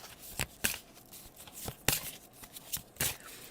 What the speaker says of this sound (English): Sometimes I'm shuffling for 3 to 5 minutes before a card falls out